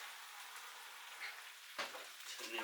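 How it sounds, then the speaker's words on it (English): Pork loin steaks sizzle in a hot pan, a close, steady hissing crackle with a few louder spits and pops. "The sizzle shots."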